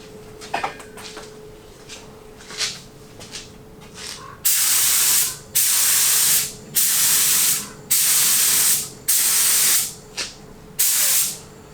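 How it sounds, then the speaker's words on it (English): A spray gun lays paint and clear coat onto a Civic engine's valve cover in repeated loud hissing bursts, each about a second long with short pauses between, after a few quieter handling noises. "load the gun up and go in there, spray the valve cover, and then spray some clear coat"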